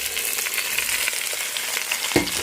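Chopped tomato drops into a pan of sautéing garlic and ginger, giving a bright, continuous sizzle with a sharper hiss and crackle near the end.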